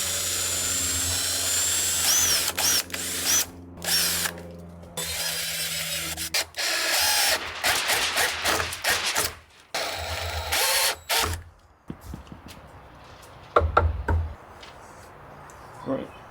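A power drill driving into the wall framing of a mobile cabin near the sill plate, heard as close, loud whirring bursts of varied length separated by short pauses and clunks.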